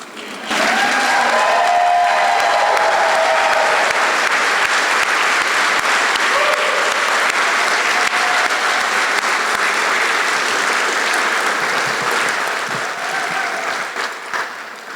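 Sustained loud applause from a large room audience celebrating students and alumni, with scattered cheers and whoops rising over dense clapping for about fifteen seconds before easing slightly at the end.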